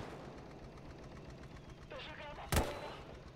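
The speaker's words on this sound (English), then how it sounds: "that Russian artillery is just gonna rip me apart" Russian artillery fire in the World War II game Gates of Hell: Ostfront: low background rumble of battle, then one sharp, loud, close blast near the end, with a brief whistling sound just before it.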